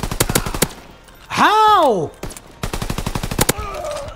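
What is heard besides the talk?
shotgun gunfire in a video game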